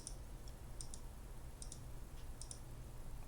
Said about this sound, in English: I'm clicking in the wrong place.